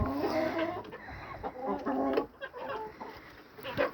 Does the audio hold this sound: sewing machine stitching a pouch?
no